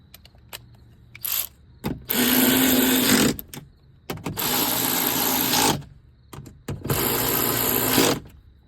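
Three bursts of a power tool whirring and rattling as it tightens 8mm bolts on a BMW soft-close door lock actuator motor, each lasting over a second, with small clicks and handling noises between them, close by.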